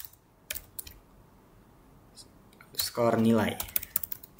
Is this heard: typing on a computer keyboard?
yes